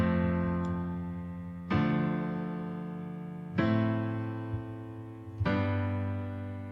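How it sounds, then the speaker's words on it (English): A simple chord progression starting on F, played in FL Studio: three sustained synth chords struck about two seconds apart, each swelling in at once and slowly fading, clear and alone with no talking. "here I have this very simple chord progression"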